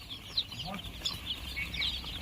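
Broiler chickens along with local and Sonali hens on a large broiler farm near a house, heard as a steady din of clucks and chirps from a crowded flock, with some talk mixed in.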